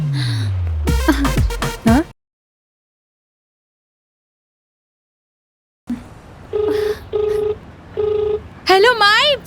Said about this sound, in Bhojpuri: तू माई के फोन लगावा ना